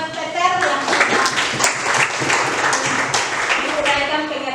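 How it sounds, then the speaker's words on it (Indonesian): Applause in a school classroom, students clapping in uneven bursts while a voice speaks over the clapping, moderately close and lasting several seconds. "Tepuk tangan buat Peter yang sudah"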